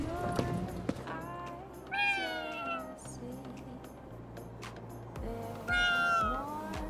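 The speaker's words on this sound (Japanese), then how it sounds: "何あれ、猫？" Cats meow repeatedly inside the video game Ghostwire: Tokyo, several clear rising and falling cries over a low steady hum and background ambience, with no voices.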